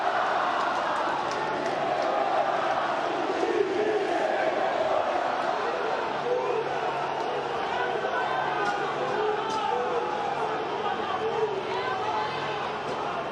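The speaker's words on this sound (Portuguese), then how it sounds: "E agora a torcida grita time sem vergonha" A football crowd at a Santos match chants in unison against the team, a steady, dense roar of many voices filling the stadium throughout without a break.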